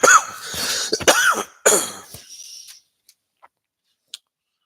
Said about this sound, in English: Coughing right at the camera.